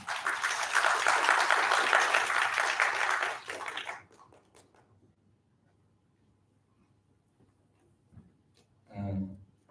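An audience at an academic session applauds to welcome a professor, loud dense clapping for about four seconds that abruptly stops, followed by near silence and then a brief burst of a voice near the mic.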